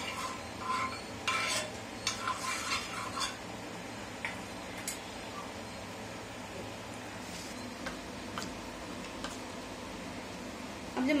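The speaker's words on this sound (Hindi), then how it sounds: "तवे पे मैं तेल डाल दूंगी, अच्छे से चला दूंगी।" Oil is stirred on a hot tava griddle for a Kerala-style fish fry, with repeated light metallic clicks and scrapes of a utensil over a steady low background hiss.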